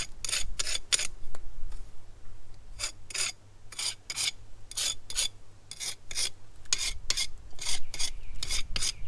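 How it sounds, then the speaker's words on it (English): A trowel scrapes mortar into brickwork joints in repeated bursts of short, gritty strokes separated by pauses, heard up close. "So what we can do now is point the brickwork up."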